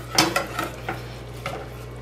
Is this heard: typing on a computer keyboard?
no